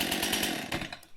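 Stihl MS261c chainsaw on warm start, a brief close burst of pulsing two-stroke engine sound that sputters and fades within about a second.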